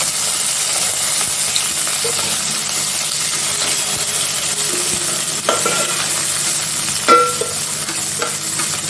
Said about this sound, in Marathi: कांदा टाकतो आणि परतून घेतो